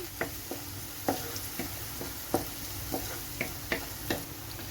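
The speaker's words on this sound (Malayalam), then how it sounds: "നമുക്കിനി എണ്ണയിലേക്ക് ചേർത്ത് കൊടുക്കാം. ഇതൊന്ന് ചെറുതായിട്ടൊന്ന് മൂക്കട്ടെ." Ginger and garlic frying in hot oil, with a steady low sizzle and a series of sharp stirring clicks as the spatula hits the pan roughly every half second.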